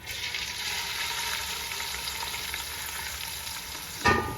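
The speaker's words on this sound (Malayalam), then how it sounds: "നമ്മുടെ എണ്ണ ചൂടായിട്ടുണ്ട് ഇതിലേക്ക് കുറച്ച് സവോള നമുക്ക് വറുത്തെടുക്കാം" A steady, moderate sizzle of onions frying in hot oil for Kerala-style chicken biryani, continuous and close, ending with a single metallic clank.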